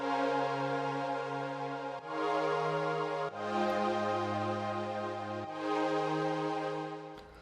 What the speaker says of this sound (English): So this is what the pad sounds like.